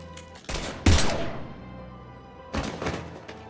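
Gunfire in the video game Mass Effect 3 bursts out as a few sharp, heavy blasts with booming tails, loud and close, with a short gap before another volley.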